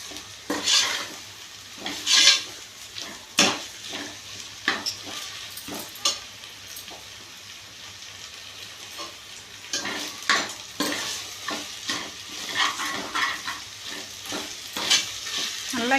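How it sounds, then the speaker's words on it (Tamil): A spoon stirs chicken biryani masala with salt as it fries in a pot, giving scraping, clinking strokes over a soft, steady sizzle. "நல்லா கிண்டிக்கணும், இல்லாட்டி அடி பிடிச்சிரும்."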